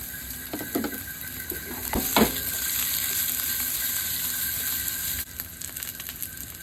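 Garlic frying in olive oil for ginisang monggo, a steady close sizzle with a few clinks and scrapes of a spatula in the pan, the crackle dropping in level near the end.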